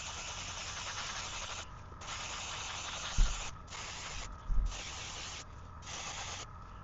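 An airbrush sprays paint onto a 3D printed swimbait head, a steady close hiss in long bursts separated by brief pauses, with a couple of soft knocks partway through.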